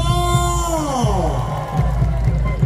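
A crowd at a volleyball grand final cheers and shouts in a loud, sustained roar, with rhythmic clapping or drumbeats pulsing underneath.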